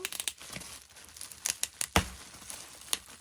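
A delivered parcel box is torn open up close, with a run of sharp tearing rips and crinkling cardboard and packaging in uneven bursts, one especially loud rip near the middle.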